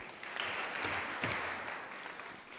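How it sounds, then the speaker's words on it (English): An audience applauds at a Kenyan film and TV awards ceremony, the Kalasha festival: a soft, even wash of many hands clapping together, heard from a distance, with a slight swell midway. "Another round of applause for yourselves."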